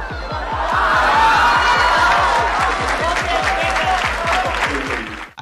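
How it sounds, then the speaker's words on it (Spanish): An audience claps hard and steadily for a hundredth-episode podcast celebration, with evenly spaced claps carried over cheers and some laughter, loud and close throughout before cutting off at the end. "Los aplausos, Mario Consejo, organizador de la Veracom."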